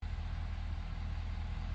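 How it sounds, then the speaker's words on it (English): A truck engine idles steadily while warming up after a VMAC VR150 air compressor installation, a low, even rumble running close and constant from start to finish with no talk over it. "So we're going to let this engine warm up a little bit, top off the coolant,"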